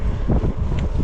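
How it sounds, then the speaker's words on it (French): Headwind buffets the microphone of a cyclist climbing a road in open countryside, a loud, low, continuous rumble with gusty swells and no voices. "En plus le vent dans la gueule."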